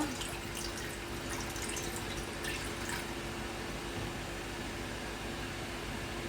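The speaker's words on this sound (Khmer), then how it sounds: "តមកយើងចាក់ទឹកតិចចូល" A small amount of water is poured into a pan while sugar syrup is being made for candied mango slices. The trickle is faint, with a steady wash of background hiss.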